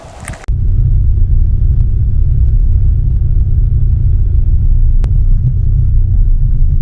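Truck engine rumbling steadily while driving through Hwange National Park, a loud, deep, continuous low drone with road vibration, starting abruptly after a brief quieter moment.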